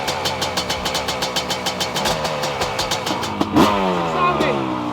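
A 2023 Yamaha YZ500 two-stroke motocross bike at a race day revs loud and close with rapid pulsing blips, then climbs into a sustained higher rev.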